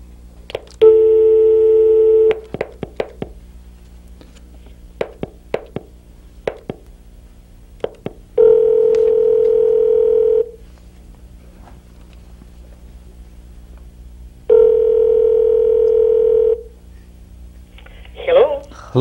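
A telephone call is placed on a game show, with tones punched in, then repeated steady ringing tones with pauses between them, clear and close as people talk around them.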